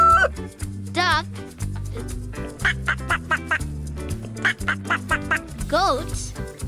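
A duck quacks in a rapid string of short, nasal calls over upbeat background music, with a sweeping tone at the start and end.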